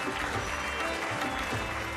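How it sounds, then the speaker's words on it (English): Conference audience at the India Nano event in Bengaluru applauding, a dense, even wash of many hands clapping at a distance, sustained steadily throughout with no talk over it. "An extra round of applause for that."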